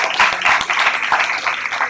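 A crowd claps after a Yakshagana dance-drama performance at a college inauguration event, with dense, steady applause up close filling the short moment, no voices over it.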